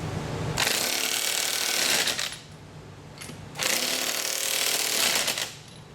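Disc brake bolts on the driver's side of a 1976 Trans Am being tightened with a power tool, heard as two loud, close rattling bursts of about two seconds each, separated by a short pause.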